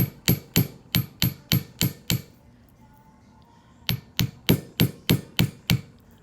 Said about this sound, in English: You're work hardening it when you hammer it